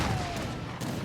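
Gatling guns firing in an Age of Empires battle, a dense continuous rattle of gunfire filling the short stretch with no gaps.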